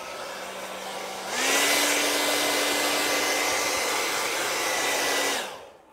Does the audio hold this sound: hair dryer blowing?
yes